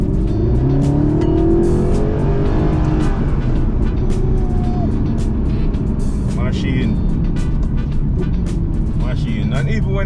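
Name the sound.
Mercedes SLS AMG sports car engine revving while driving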